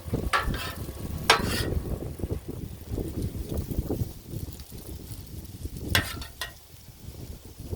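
Cabbage sizzling on a flat griddle gives a steady crackling hiss, with louder scraping and clanking at several moments and no voices.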